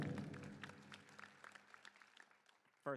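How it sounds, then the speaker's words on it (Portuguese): Faint, distant applause from an audience at an in-person Q&A session with Matt Mullenweg, a soft patter of many hands that thins and fades away before a brief voice at the end. "Vamos dar uma salva de palmas por isso."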